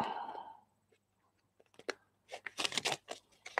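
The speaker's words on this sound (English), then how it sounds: "I'm going to be trying to do a few shuffles with this just to break them in." A new deck of playing cards gets shuffled during a magic session, with a soft rustle at first, then a flurry of quick riffling clicks and flutters near the end, close and fairly quiet.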